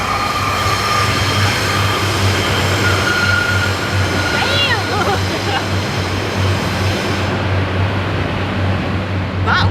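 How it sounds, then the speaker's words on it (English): A loud train rumbles across the track directly overhead, the heavy continuous roar of wheels on rail filling the whole stretch, with brief metallic squeals partway through and the noise easing off at the very end. "That was a noisy train. We are sat underneath a train track"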